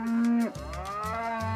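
Grass-fed beef cattle on a farm at Stanley in northwest Tasmania, with Angus, South Devon and Murray Grey breeds: a single loud, close, drawn-out moo that dips and wavers in pitch, with no talking.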